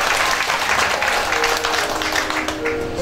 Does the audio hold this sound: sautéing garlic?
no